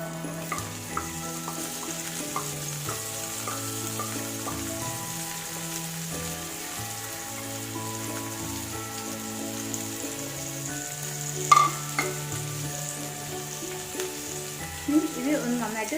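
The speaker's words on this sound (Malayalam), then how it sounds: "ഇനി നമുക്ക് ഉള്ളിയും ഉണക്കമുളകും വേപ്പിലയും കൂടെ നമുക്ക് ഇതിലേക്ക് ഇട്ട് കൊടുക്കാം." Onions, dried red chillies and curry leaves fry in oil for a Kerala dried prawn chutney, a soft steady sizzle running throughout beneath melodic background music, with a few sharper crackles near the end.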